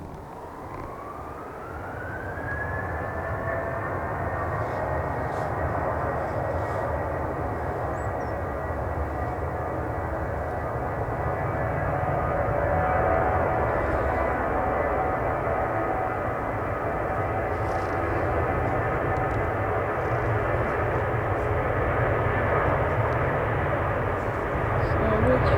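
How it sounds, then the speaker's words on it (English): A Ryanair Boeing 737 departs Manchester Airport, its jet engines spooling up into a loud rising whine and then holding a sustained roar for a long stretch, with a voice talking over it. "also departing is the Ryanair Boeing 737"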